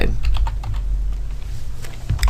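Someone types on a computer keyboard while writing an email, producing a rapid, close run of light, irregular key clicks.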